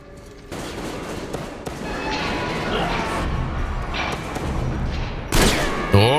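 Gunfire in the Metro Exodus video game: continuous dense shooting and rattling bursts over a steady background, with a sharper crashing burst near the end and a voice speaking briefly.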